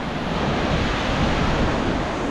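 A small river flowing below a cliff in Spain, a steady broadband rush of water that stays even and fairly loud throughout, with no voices.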